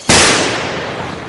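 A single loud, sharp gunshot cracks nearby in a historical battle scene between Portuguese and Dutch forces in colonial Brazil, its reverberant tail fading slowly over about a second.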